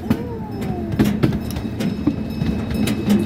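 Kirkwood mini train ride rolling along its rails, a close, rumbling ride with irregular clicks and knocks from the wheels over the track and a faint metallic squeal drifting through.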